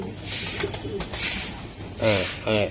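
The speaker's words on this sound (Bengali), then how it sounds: "এই যে দর্শক কবুতর দেখাই" Racing pigeons coo at a club sale: a steady low murmur of cooing, with two louder, closer throaty coos near the end.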